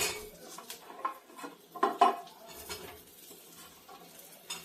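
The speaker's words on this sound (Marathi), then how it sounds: "तर आपण आंबे घालून घेणार आहोत" Mango pieces tossed into a pan of hot oil and chili powder, with the gas switched off, and stirred: soft scraping and clinking of a spoon against the pan, a brief louder clatter midway, and a faint sizzle underneath.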